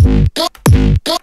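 A synth runs through a multiband compressor with its gain raised to 13.6, giving gritty sizzle to two loud, dense notes, each followed by a shorter, brighter, edgier tone.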